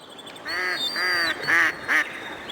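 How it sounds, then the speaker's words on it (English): A Pacific black duck quacks in a quick run of four harsh, nasal calls, close and distinct over a faint outdoor background. "The most recognisable is a rapid succession of quacks, declining in pitch and increasing in tempo."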